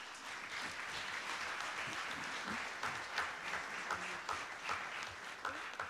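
Audience applause for a wood-industry group at a Q&A session, a steady wash of many hands clapping at moderate level for the whole stretch, with no one speaking over it.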